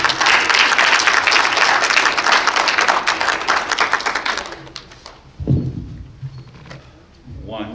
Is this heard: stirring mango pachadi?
no